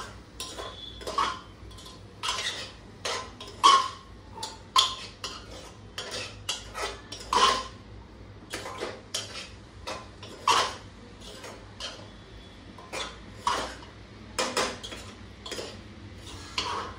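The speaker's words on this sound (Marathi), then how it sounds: "थोडंसं ढवळून घेऊया." Soybean khichdi with masala stirred in a pot, a spoon clanking and scraping against the metal in irregular strokes, close and fairly quiet over a low background hum.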